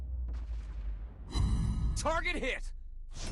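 Naval guns on a warship fire a high-explosive salvo in World of Warships Blitz, with loud low booms and a sharp burst around the middle, set against game battle noise and a talking voice.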